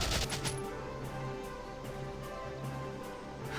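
Repeated gunfire from soldiers in the Valkyria Chronicles strategy video game, a run of sharp shots spaced through a dense, steady battle backdrop with no talking.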